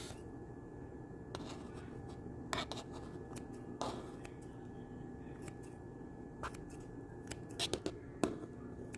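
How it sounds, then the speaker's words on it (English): Cooked noodles are cut into pieces for a toddler's allergy-friendly lunch. A handful of soft, quiet snips and clicks are scattered over a faint steady background hum, close by, with no talk. "After it cools off, I come behind and I kind of just cut up some of these noodles."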